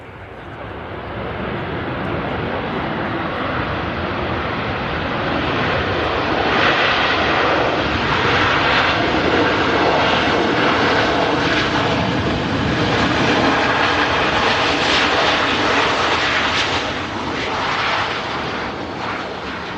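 A passenger airliner touching down and rolling out at Manchester Airport, a loud, steady engine and reverse-thrust roar sustained for the whole span, swelling slightly midway and then easing.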